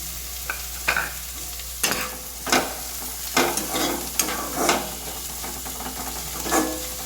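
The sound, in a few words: tomatoes frying and being stirred with vegetables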